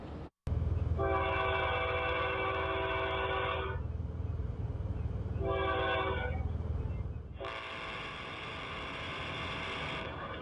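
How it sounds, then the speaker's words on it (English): A train horn sounds in long loud blasts as the train approaches an intersection, one sustained, a short break, then another, over a steady rumble of rolling rail cars nearby. "you can hear that train whistle blowing as it does approach the intersection"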